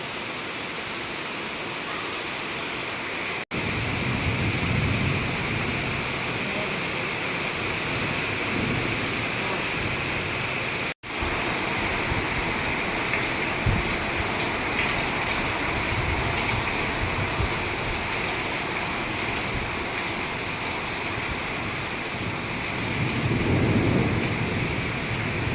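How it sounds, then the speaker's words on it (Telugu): Heavy summer rain pours down at night as a steady, dense hiss of downpour, continuous and fairly loud, with brief cuts and a low rumble swelling near the end. "మంచి జోరు వర్షం, ఇంత పెద్ద జోరు వర్షం ఒక్కసారిగా రావడం అనేది చాలా అరుదుగా ఉంది."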